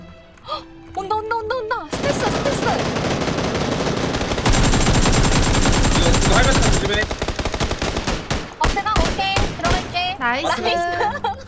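Rapid automatic gunfire bursts from a shooter video game, loud dense volleys lasting several seconds, with short talking before and scattered single shots afterward.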